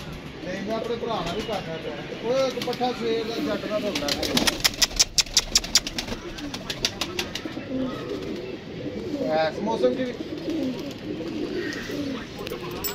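Pigeons cooing and fluttering outdoors while people talk over them, with a burst of sharp clicking wingbeats in the middle.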